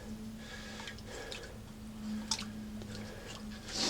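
Salt water brine being stirred, giving soft, wet squishing and dripping sounds that stay fairly quiet and close, with a faint steady hum underneath and no talking.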